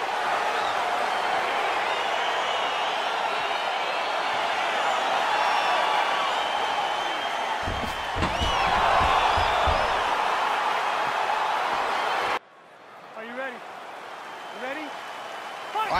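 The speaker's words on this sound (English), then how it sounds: "Crowd getting excited as this fight gets underway" A crowd at the opening of a UFC 4 video game fight gives a steady, loud roar from start to finish. After a short swell it drops off suddenly, and some faint cheering is left. A commentator talks over the noise.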